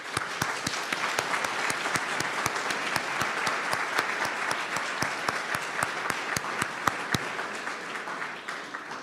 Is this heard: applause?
yes